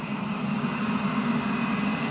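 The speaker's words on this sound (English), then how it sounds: "that's that noise you're hearing? Yeah. That's this fan right here." A furnace draft inducer fan runs with a steady, low, even hum and a faint airy hiss, unchanging throughout.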